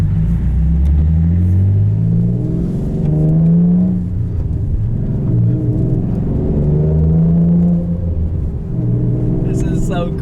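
A 2003 Nissan 350Z with a manual gearbox pulls away, its engine droning and rising through the revs as it accelerates, loud and steady in the cabin with people talking over it.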